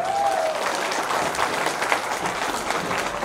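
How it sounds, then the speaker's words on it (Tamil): An audience claps in unison at a Tamil heritage event in Walthamstow, producing a steady, moderately loud crowd applause with a faint tone briefly at the start. "எல்லாரும் கைதட்டுங்க பார்ப்போம்"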